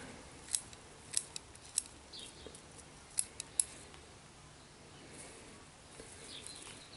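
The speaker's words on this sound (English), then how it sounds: "Cut the upper growing needles." Small scissors snipping the upper growing needles of a bonsai, about six crisp clicks spread over several seconds against a faint quiet background, close and sharp, no talk.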